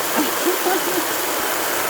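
A steam washer sprays water under pressure outdoors in a yard by a pool, making a continuous broad hiss and rush with a few faint splashy blips, close and fairly loud.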